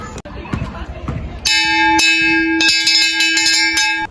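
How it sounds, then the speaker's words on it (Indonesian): A school break bell rings electronically, a sustained bright ringing tone with repeated strikes that starts partway in and continues to the end, following a stretch of voices and ambient chatter. "Tepat jam 10, bel istirahat pun berbunyi."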